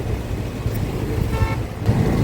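Heavy road traffic heard from a motorbike, a loud continuous rumble of engines with brief horn toots mixed in, close and busy.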